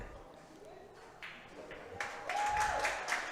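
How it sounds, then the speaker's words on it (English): Crowd at the 2024 Canadian Women's Curling Championship in Quebec applauding a good shot, the clapping swelling from a low murmur into a loud sustained burst in the second half, with a faint tone and arena chatter. "Yeah, the crowd appreciated that."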